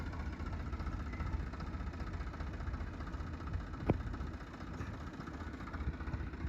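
A tractor engine runs in a steady low rumble at the Maksudra sports ground in the early morning, with one brief knock partway through. No one speaks.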